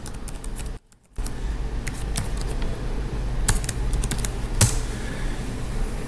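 Quick bursts of computer keyboard typing as a password is entered to connect to a Windows server over RDP, with close, crisp key taps, a short silent gap and a louder final keystroke.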